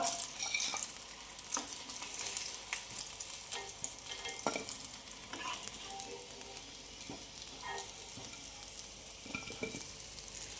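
KFC-style chicken pieces fry in hot oil on a low flame, giving a steady close sizzle with scattered pops and crackles and occasional scraping as pieces are moved, with no voices.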